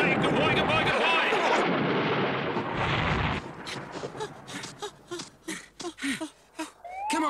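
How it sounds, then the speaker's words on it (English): A cartoon gun salute: a loud, dense, roaring burst of firing for over three seconds, followed by voices talking and whimpering over scattered softer effects. "We fire a salute in their honor."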